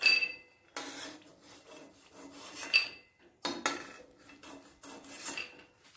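Fried lentil dumplings, cooked in white oil, are shifted into another dish with raspy scraping and light clinks of utensils against metal cookware, in two close bursts separated by short pauses.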